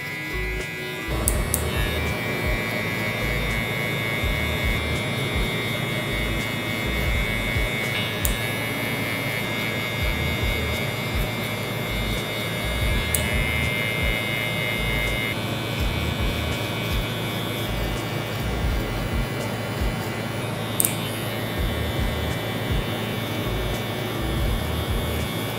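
Barber hair clippers buzz steadily during a fade, a continuous close electric hum and whine with small shifts in pitch as the blade moves through the hair, with no talk.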